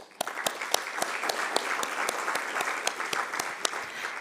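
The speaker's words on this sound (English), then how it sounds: "give out a thunderous round of applause" A conference audience at an agricultural and climate policy meeting in Africa breaks into steady, dense clapping with sharp individual claps standing out, sustained and fairly loud throughout.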